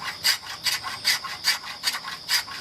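Spokeshave shaving a wooden chair spindle in rhythmic strokes, about seven bright rasping passes in steady succession, close and clear with no speech.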